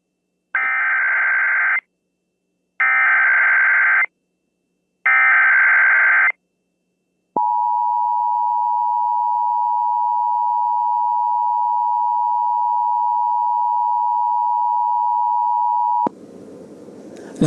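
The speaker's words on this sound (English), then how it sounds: "We're going to pause now for this Amber Alert." Emergency Alert System Amber Alert tones from a broadcast: three loud, evenly spaced attention bursts followed by a long steady alert tone lasting several seconds, then cutting off into broadcast noise.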